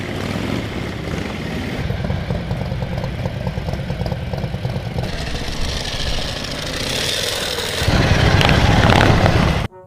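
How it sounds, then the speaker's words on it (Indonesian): A toy Harley-Davidson motorcycle plays an electronic engine sound: a continuous rumbling idle that swells into a louder, deeper rev near the end before cutting off abruptly. No speech is heard. "Wow, ini motor Harley Davidson teman-teman."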